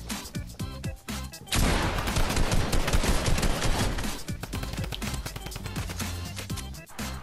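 Rapid Fortnite gunfire erupts in a dense, loud burst of overlapping shots, sustained for several seconds before thinning into scattered cracks.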